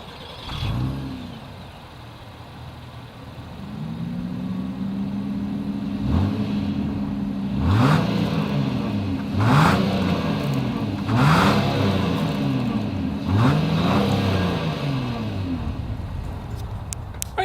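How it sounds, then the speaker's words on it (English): The dual exhaust of a 2022 Acura MDX idles with a steady drone, then revs in several rising and falling bursts, each a throaty swell that settles back to idle. "here is that exhaust clip"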